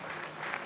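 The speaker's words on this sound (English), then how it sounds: "Both sets of players clapping her off the field" Brief burst of applause at a women's Premiership rugby match between Leicester Tigers and Exeter Chiefs, as both teams clap an injured player being carried off the field; steady, dense clapping with no talk.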